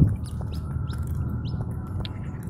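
Scaly-breasted munia chicks being hand-fed seed mix, giving repeated thin, high chirps scattered across a steady low background rumble, fairly faint and close.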